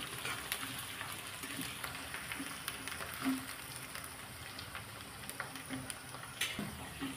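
Spices sizzling steadily in a pan for a Marathi-style chickpea leaf bhaji, a soft continuous frying hiss with a few faint scraping stirs, close by and with no talking.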